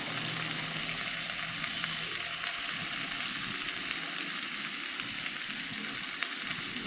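Malabar spinach (pui shak) with potatoes fries in a pan, a constant close crackling sizzle with small pops, steady throughout and no voices.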